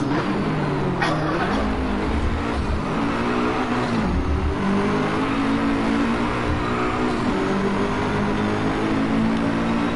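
A race car engine roars and revs in the Driveclub racing game, steady and loud with rising and falling pitch as it accelerates through gears, alongside a Ferrari and a McLaren P1.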